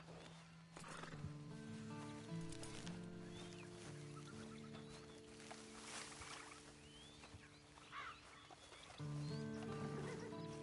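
A horse in Red Dead Redemption 2 gives a loud whinny over clip-clopping hooves, with a steady tonal game music bed underneath and faint chicken clucks in the background.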